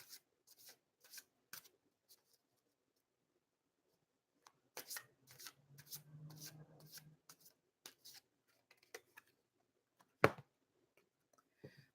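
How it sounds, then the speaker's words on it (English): Tarot cards shuffled by hand in soft, scattered bursts, with a longer run of riffling in the middle and a sharper snap near the end, all close but quiet with long silent gaps. "I'm going to keep shuffling because I didn't ask the question entirely"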